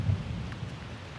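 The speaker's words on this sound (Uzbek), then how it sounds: "Mana yomg'ir yog'yapti." Rain falls high in the mountains, a steady wash of rain noise with a low rumble near the start, heard alone without talking.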